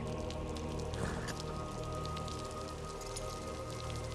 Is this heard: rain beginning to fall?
yes